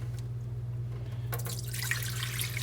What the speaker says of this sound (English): You gotta pour all that water off of it.